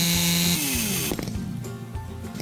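Handheld power saw cutting through wood while building a wooden house, a loud steady motor whine dropping in pitch as the blade bites into the board, continuing throughout.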